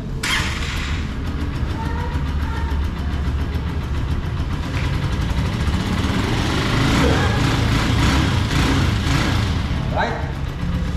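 A Honda TMX 125 motorcycle engine is started and then idles: a steady, close, low rumble runs throughout, with faint background voices.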